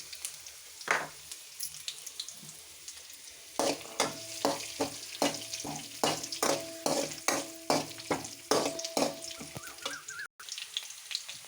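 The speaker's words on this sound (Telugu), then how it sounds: "అవి కొంచెం వేగాక చాయమినపప్పు, జీలకర్ర వేయాలి." Garlic cloves, urad dal and cumin sizzle in hot oil, a steady fry with a rhythmic series of clinking, scraping stirs of a ladle against the pan, close and clear with no talking.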